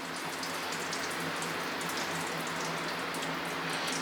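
Fuel pours steadily out of a disconnected fuel line into a drain pan beneath a drift Lexus IS300, a continuous close splashing trickle that stays even for the whole stretch with no voices.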